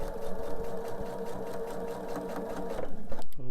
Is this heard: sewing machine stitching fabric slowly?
yes